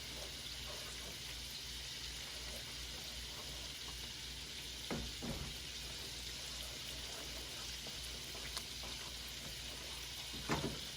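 Parmesan being stirred into mushroom risotto while sea scallops sizzle in a pan, giving a steady, soft frying hiss with a few faint scraping stirs, close and quiet.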